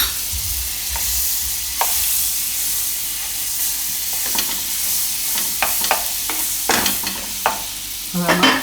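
Paratha fries in oil and butter on a griddle with a steady close hiss and sizzle, while a spatula scrapes and taps at irregular intervals, growing busier toward the end; no one speaks.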